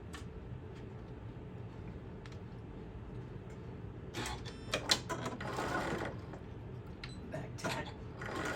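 A sewing machine stitches the seams of a puppy-themed tote bag at a stitch length of about 2.8 to 3, running as a faint, steady mechanical whir that picks up into louder bursts in the second half, with no talking.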